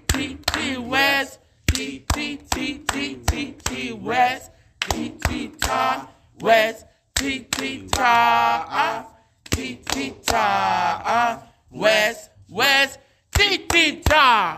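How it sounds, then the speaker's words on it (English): A group claps in unison along to a chanted rhythmic count, with short sharp claps punctuating spoken and chanted voices across the whole stretch, close and fairly loud. "get ready to clap"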